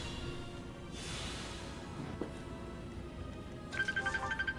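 A phone rings faintly during a Fire Emblem: Three Houses live game stream, starting after a quiet stretch as a run of short, evenly spaced electronic tone pulses near the end.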